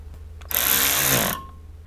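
A power driver runs screws into a CNC mini mill during a belt-drive conversion, sounding as one steady whirring burst a little under a second long, fairly close, with no talking.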